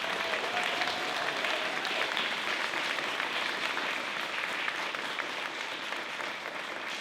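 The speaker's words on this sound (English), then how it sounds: "One more applause for our panel for your words." Sustained applause for a panel from a university event audience, steady and dense clapping filling the whole stretch, fading slightly toward the end.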